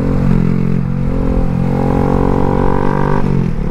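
A sport bike revs loudly indoors in a living room, its engine droning steadily and close throughout with small shifts in pitch, with no voices over it.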